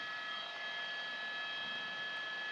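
Steady whine and rumble inside a helicopter flying over hurricane damage, an even, loud drone with high-pitched turbine tones that holds constant throughout without any voices.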